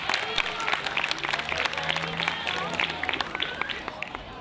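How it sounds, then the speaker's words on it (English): An audience at a primary school valedictory ceremony breaks into a steady round of applause, many hands clapping at once in a continuous rattle that holds evenly from start to finish. "Round of applause"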